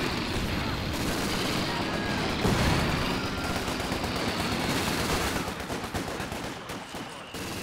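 A Company of Heroes 2 battle in a 2v2 match, with an MG position coming under heavy fire: dense continuous gunfire, machine gun bursts and booming artillery impacts, loud and unbroken, with a voice talking over the din.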